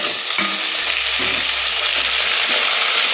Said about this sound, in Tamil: வெங்காயம் வதக்கிட்டு தக்காளி சேர்த்துக்கலாம்